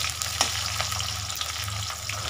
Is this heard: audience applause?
no